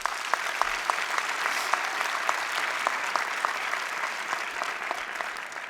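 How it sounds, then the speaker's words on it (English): Steady applause from a large audience, dense clapping sustained throughout with a few sharper claps standing out, no voices over it. "Let's give them a round of applause."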